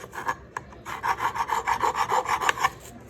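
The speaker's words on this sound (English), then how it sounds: "Chamfering the inside edge a little bit, like this. Chamfer the outside edge again." A hand file rasps along the edges of Yamaha Warrior clutch plates to chamfer them, a run of rapid, regular back-and-forth strokes after a couple of short starting passes, close and alone.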